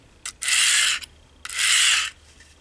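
Knife honed on a Harbor Freight 400 grit diamond stone, two distinct hissing rasp strokes, each about half a second long, close and clear with short quiet gaps between.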